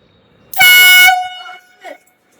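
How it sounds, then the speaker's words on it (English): A Fox 40 Ecoblast air horn lets out one loud, blaring blast of about half a second, followed by a brief trailing tone as it fades outdoors. "air horn"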